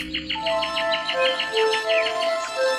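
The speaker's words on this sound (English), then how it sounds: "And can you hear the birds singing?" Birds sing close by in quick repeated chirps and trills, with clear whistled notes layered over a soft background hum.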